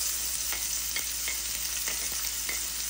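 Chopped onion, ginger and green chili drop into hot mustard oil with dried red chili for a spicy semolina dish, producing a dense, even sizzle with occasional soft stirring scrapes, no talking.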